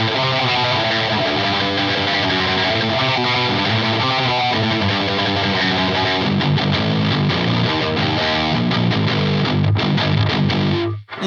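A 7-string electric guitar plays through an EQD Palisades or Kraken distortion pedal, giving a thick, saturated tone in dense riffing and sustained chords that end abruptly, with no talk.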